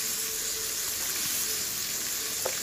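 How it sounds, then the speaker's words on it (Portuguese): Butter sizzling steadily in a pan with a little crushed garlic, a soft continuous frying hiss with a small clink near the end, heard close up with no talking. "A manteiga já tá aqui derretendo"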